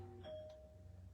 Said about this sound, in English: there's my doorbell